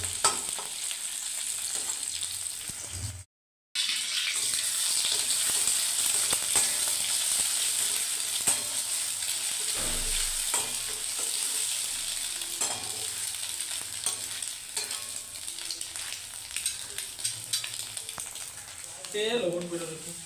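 Onion frying in oil makes a steady close sizzle with occasional stirring scrapes, broken by a brief silent gap early on and ending with some louder clatter.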